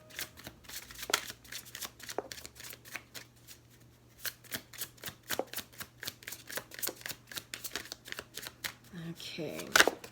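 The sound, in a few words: shuffling an Untamed Oracle card deck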